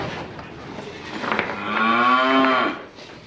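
Heifers low out in a field, a single long, rising moo swelling near and loud before it trails off, with soft outdoor background.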